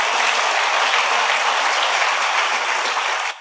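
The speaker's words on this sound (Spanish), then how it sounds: "Dale un aplauso al Rey bendito." A church congregation applauds at a Spanish-language evening service, a dense, even wash of clapping from many hands that holds steady for several seconds before cutting off abruptly.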